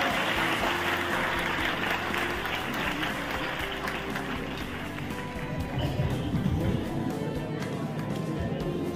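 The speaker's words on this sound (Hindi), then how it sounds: "मैं चाहूंगा एक जोरदार तालियां उनके जज्बा के लिए" A large audience at a function in Patna gives sustained, enthusiastic applause, a thick wash of many hands clapping that swells and holds for the whole stretch, with no distinct voices.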